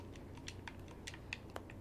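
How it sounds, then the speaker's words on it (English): Typewriter in Resident Evil 4 chainsaw demo: a quick, quiet run of about a dozen light mechanical key clicks in an uneven rhythm over a low hum, no talking. "Ah, yes, the old typewriter."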